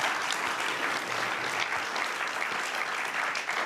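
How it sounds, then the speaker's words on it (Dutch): An audience at a summer talk event applauds a guest with dense, continuous clapping that fills the room. It stays steady for the whole stretch, with no talking. "Mag ik voor nu even een groot applaus voor Ruben L. Oppenheimer."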